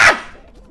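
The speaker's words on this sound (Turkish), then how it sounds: "köpek" A dog gives one sharp, loud bark close by, which quickly fades into quiet background noise.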